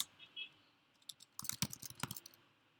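Quick burst of computer keyboard typing as a search phrase is entered, a short cluster of soft close key clicks after a brief quiet lead-in.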